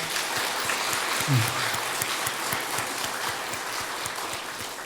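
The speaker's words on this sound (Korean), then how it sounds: "박수 한번 하겠습니다" Congregation in a church clapping for the choir after a hymn, soft and somewhat distant applause with scattered individual claps, a brief voice near the start.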